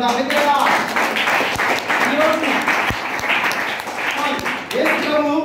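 Congregation at a church service gives sustained, loud clapping in praise, a thick steady patter of many hands while voices sing or call out over it.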